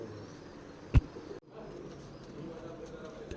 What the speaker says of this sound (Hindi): ये तो हमारे सब जाबाज कबूतर हैं, उड़ने वाले हैं